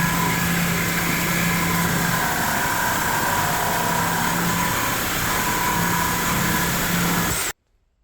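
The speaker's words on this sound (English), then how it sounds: "Now we have the Diablo Carbide blade. Let's see how it does." A reciprocating saw fitted with a Diablo carbide blade cuts through metal, giving a loud, steady, harsh grinding roar that runs without a break for about seven seconds and then stops abruptly.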